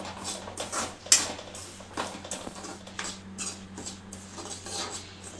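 Dry wheat semolina (upma rava) roasts in a pan while a spoon stirs it. Rhythmic scraping and rasping strokes repeat close by over a low, steady background hum.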